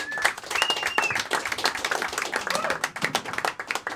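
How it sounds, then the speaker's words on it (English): Open-mic comedy crowd clapping for an incoming comic, a dense close patter of many hands with a few whoops, steady throughout. "Please put your hands together for the very funny Jonathan Rachels."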